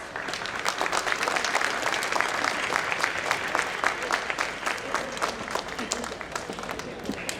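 A crowd applauds steadily, many hands clapping in a continuous, even wash that holds at the same level from start to finish.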